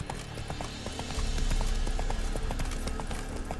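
Roach, the horse in The Witcher 3, gallops with a quick, rhythmic clip-clop of hooves that grows louder partway through and continues steadily, with no talking.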